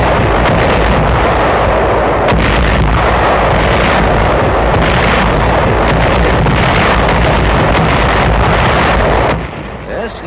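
World War II artillery fire rumbles as a dense, continuous roar of blasts and booms, loud and unbroken for about nine seconds before it cuts off abruptly.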